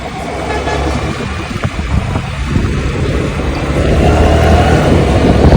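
A Honda Dio scooter's engine drones and rises as it picks up speed, wind rushing over the rider, the pitch and loudness climbing steadily toward the end.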